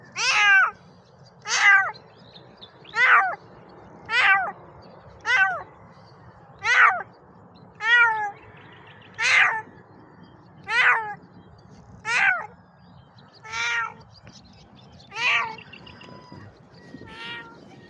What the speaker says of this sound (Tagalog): may nakita kong pusa